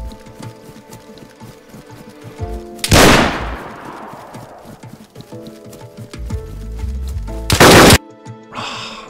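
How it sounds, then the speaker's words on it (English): Gunfire in the survival game DayZ: a loud sharp shot with a long echoing tail, then another heavy blast a few seconds later, over quieter background rustling and movement sounds. "I double shot him, but he killed me."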